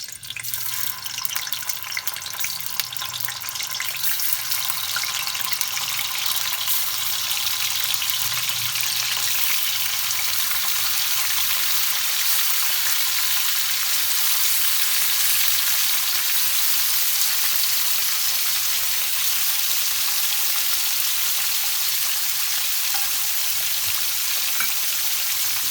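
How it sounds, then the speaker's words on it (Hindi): Paneer pieces fry in hot oil, giving a loud, steady, dense sizzle that runs unbroken from start to finish with no voices. "देखियो तेल गरम भऽ गेल हँ। आब एहिमे हम पनीर डालि देब।"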